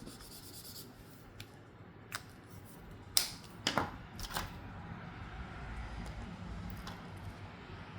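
Marker strokes on paper during a birch-tree drawing with washi tape: quiet, close scratchy swipes, with a few sharper strokes clustered in the middle, over a soft room hiss and no talking.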